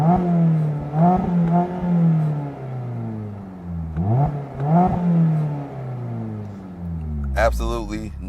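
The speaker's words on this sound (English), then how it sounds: "here's how it sounds" An ND3 Mazda Miata with a single-exit exhaust revs in several rising and falling bursts, the note swelling and dropping between short idles, close by and fairly loud with a brief speaking voice near the end.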